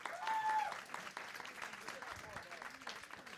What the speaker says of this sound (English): You know who should be clapping louder?